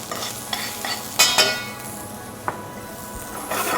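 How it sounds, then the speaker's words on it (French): Onions caramelize in a pan, giving a steady soft sizzle broken by a few sharp scrapes and clinks of a utensil against the pan. "Vous mettez vos oignons, vous les faites bien caraméliser."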